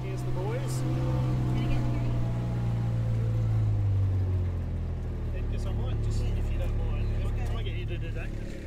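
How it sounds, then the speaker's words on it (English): A boat or farm vehicle engine runs steadily and fairly loud, a low droning hum throughout, with a voice speaking over it. "cut the engine for a second?"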